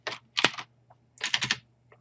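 Bursts of typing on a computer keyboard, with two quick clusters of key clicks separated by a short pause, close and fairly clear over a faint steady hum.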